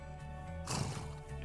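A horse whinnies in The Sims 4 horse ranch game: a short, breathy burst of neighing rises suddenly partway through over a steady, droning game soundtrack.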